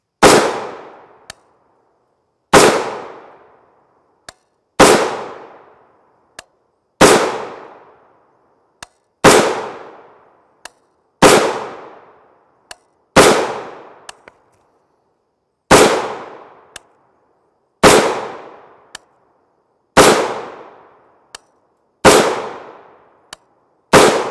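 A 16-inch PA-10 rifle with a muzzle brake fires 7.62 NATO MK 316 Mod 0 rounds outdoors. Around eleven loud, sharp shots land at a steady pace of about one every two seconds, and each crack decays into a short echo.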